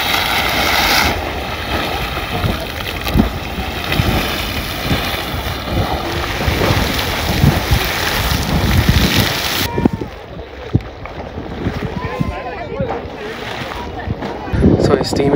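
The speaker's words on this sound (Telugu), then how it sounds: "సో ఈ స్టీమ్ ఇంజిన్ గైజర్ పేరు క్యాసిల్ గైజర్." Castle Geyser in Yellowstone erupting, a loud continuous roar of rushing steam and wind-blown spray, steady for most of the stretch and then easing slightly, with no talk heard.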